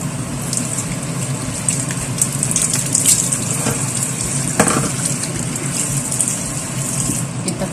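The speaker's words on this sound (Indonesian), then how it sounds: "sekarang kita akan cuci bakso ini" Water running and splashing over chicken meatballs being washed in a kitchen, a continuous loud gushing hiss with occasional clinks and knocks of handling.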